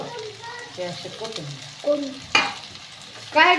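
Potatoes being stirred and mixed in a hot pan, a sizzling scrape of the spoon with a few sharp clatters, close, under intermittent talking.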